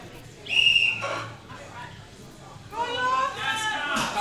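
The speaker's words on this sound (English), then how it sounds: "On the whistle." A sharp starting whistle blasts once at a strongwoman competition, loud and sustained for about half a second, followed by crowd noise and an announcer's voice and cheering.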